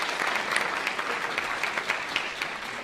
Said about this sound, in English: A round of applause for them because I appreciate it.